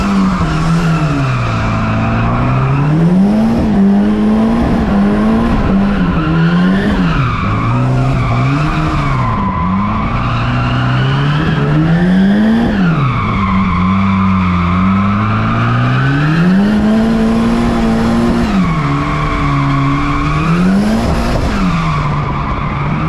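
A 450hp big-turbo wagon drifts around a track, tires squealing and skidding continuously while the engine revs rise and fall in waves, loud and close throughout without talk.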